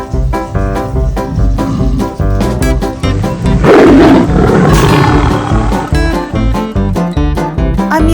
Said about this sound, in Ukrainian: Зайчику не бійся, це іграшкова тигриня.